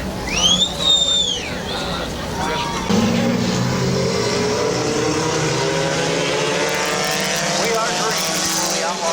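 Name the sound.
compact division race cars racing at Midvale Speedway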